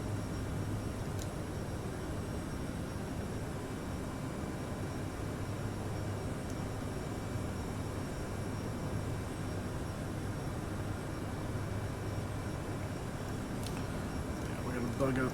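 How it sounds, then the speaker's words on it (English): An airliner accelerating down the runway on takeoff in a flight simulator, a steady low engine roar and rumble that holds constant and fairly loud, with a voice speaking over it. "Let the aircraft accelerate a bit."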